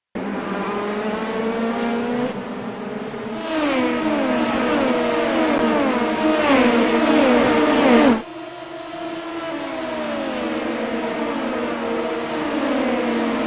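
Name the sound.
LMP2 race car engine driving a lap in iRacing video game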